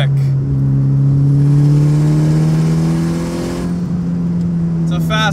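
A 400 hp turbocharged Mitsubishi Lancer Evolution V engine revs up with a rising, droning pitch, close and loud, as the car accelerates hard.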